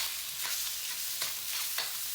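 Garlic frying in a little oil in a pan, a steady soft sizzle with a few sharp scraping strokes of stirring, close and fairly quiet with no talking.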